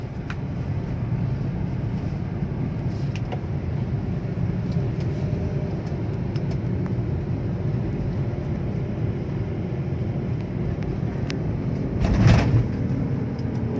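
A 2014 Daihatsu Ayla X with a manual gearbox accelerates past 80 km/h, heard from inside the cabin as a steady, loud droning rumble with road noise and a brief swell near the end.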